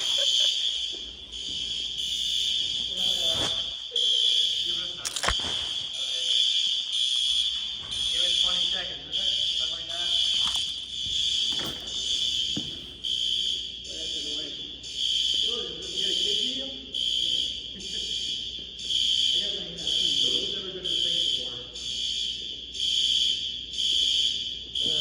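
A high school fire alarm sounds continuously as a steady, shrill electronic tone with faint crackly knocks and scattered voices underneath.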